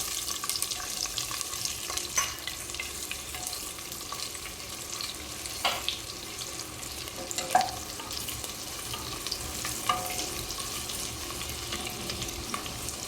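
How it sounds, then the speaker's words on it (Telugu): Chopped onion and slit green chilies frying in a pan give a steady, close sizzle throughout, with occasional soft clicks and stirring scrapes over the continuous hiss. "ఇవన్నీ కూడా బాగా దోరగా వేగిపోవాలి."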